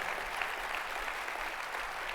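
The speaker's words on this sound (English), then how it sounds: "Maybe God can get a hand clap." Audience clapping at a NABSE gathering, a steady, fairly faint wash of many hands applauding together without pause, heard from a distance in a large hall.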